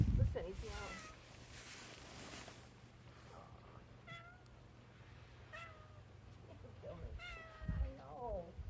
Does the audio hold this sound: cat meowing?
yes